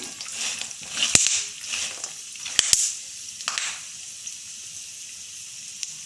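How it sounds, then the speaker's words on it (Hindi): Mixed dry fruits and nuts, including almonds, cashews, pistachios, melon seeds, pumpkin seeds and walnuts, frying in ghee over a low flame, giving a steady soft sizzle with a few sharp clicks and pops close by. "घी में मैं मिक्स ड्राई फ्रूट जो है उसको फ्राई कर लूँगी"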